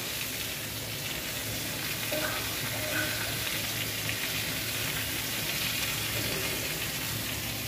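Food frying and being stirred in a pan after salt is added, a steady close sizzle with scraping strokes of a spatula running throughout, with no voices.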